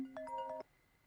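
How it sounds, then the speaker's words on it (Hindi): A mobile phone ringtone for an incoming call, a short bright electronic melody of a few tones lasting under a second, then cutting off into quiet room noise. "छियू ने फोन क्यों किया?"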